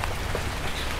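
Steady monsoon rain pours down outdoors at a vegetable market, a dense, even hiss of drops on surfaces that is close and fairly loud, with no voices.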